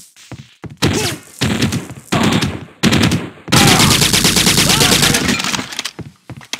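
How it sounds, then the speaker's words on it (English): Rapid bursts of automatic gunfire ring out in the video game Half-Life: Modern Warfare, several loud separate volleys with short pauses, the last burst longest. "One shot, one kill."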